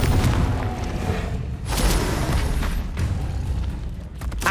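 The Confringo fire spell from Hogwarts Legacy blasting continuously, a dense roaring explosive rumble with repeated booming impacts throughout, loud and close, no talking.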